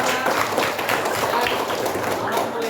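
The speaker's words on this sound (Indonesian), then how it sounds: "Tepuk tangan dulu untuk semuanya." Pupils in a classroom clap together for their classmates, a steady rattle of many hands at close range, with a voice speaking over the applause.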